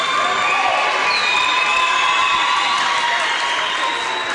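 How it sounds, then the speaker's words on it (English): A Hugoton crowd cheers at a girls high school basketball game, a steady, loud wash of shouting and whooping from the stands that holds without a break from start to finish. "the Hugoton crowd cheering their team on"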